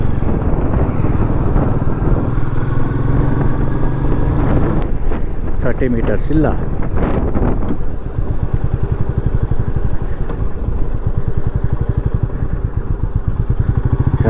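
A solo motorcycle ride on a narrow village road on the way from Bangalore to Dharmasthala, with a steady engine drone buffeted by heavy wind noise on the microphone and a rider speaking briefly over it.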